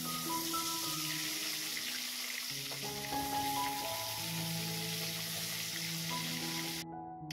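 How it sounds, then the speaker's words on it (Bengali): Food sizzles steadily in a frying pan, a continuous close crackle and hiss running throughout, with faint tonal sounds underneath and no speech. "তো এটাকে এখন আমি ভেজে নেব।"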